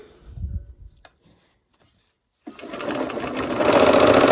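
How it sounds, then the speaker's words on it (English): A sewing machine stitches a quilt triangle into a square for a barn quilt sampler block, starting after soft handling noises and a pause, then running steadily and growing louder, close up, with no talk. "now we're sewing along this triangle here to make a square"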